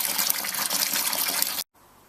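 Home-brewed beer wort is tipped back through a mashed grain bed, a steady broad gush of pouring liquid that runs continuously, then cuts off abruptly, leaving quiet room tone.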